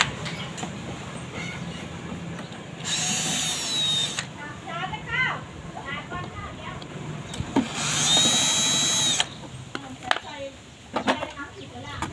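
A power drill whines in two strong bursts as it removes screws from an electric fan, with clicks and handling noises between them and some quiet speech in the background.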